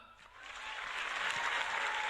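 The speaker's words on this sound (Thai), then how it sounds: "ขอฟังเสียงปรบมือเสียงกรี๊ดดังๆ จากพี่น้องชาวอีสานภาคเหนือและภาคกลางหน่อยครับ" Crowd of people from Isan, the North and Central Thailand clapping and cheering at a stage event, a dense wash of applause that swells louder and holds steady; screaming is not clearly distinct within the roar.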